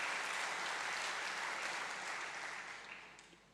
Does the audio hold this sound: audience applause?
yes